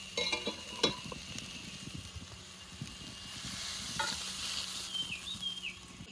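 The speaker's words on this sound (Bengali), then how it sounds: "ওই জন্য একটু সুন্দর করে ভেজে নেবো শাকগুলো।" Kharkol leaves fry in a pan in a village kitchen, a close hissing sizzle with busy stirring rustles and a few utensil clinks, fading to a steadier hiss toward the end, with no voices.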